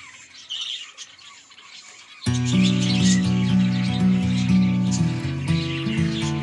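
Budgies in a colony breeding setup squawk and chirp in a dense, continuous chorus that bursts in loudly after a quieter start, with many birds calling at once close by.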